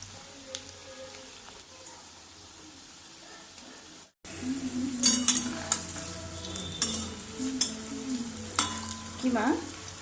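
Onion pakoras in gram-flour batter fry in hot oil, a quiet bubbling at first, then louder crackling with sharp spattering pops and scraping of a spatula, close and without talk.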